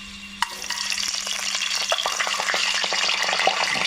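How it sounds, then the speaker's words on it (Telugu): Eggs being stirred in hot oil in a pan for a spicy egg curry, a steady loud sizzle with scraping stir strokes and a sharp clack near the start, no voices. "ఎగ్స్ మంచిగా కలుపుకుందామండి ఆయిల్లో"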